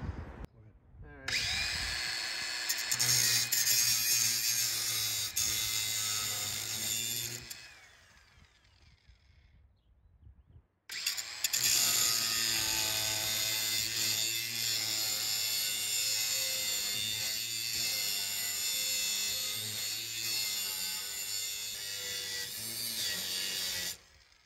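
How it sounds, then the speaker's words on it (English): Cutter grinding a tab off a part on a 1973 Harley-Davidson Sportster, a loud, steady whining cut that runs for several seconds, pauses briefly, then resumes for a longer stretch at close range. "We're gonna cut this tab off. So I got my cutter, and we're just gonna go in."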